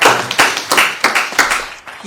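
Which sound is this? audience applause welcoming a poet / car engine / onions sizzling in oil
audience applause welcoming a poet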